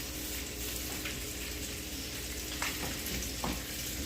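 Sausage and beef with green peppers and onions fry in a hot pan, giving a steady dense sizzle with a few faint scrapes of stirring and no voices.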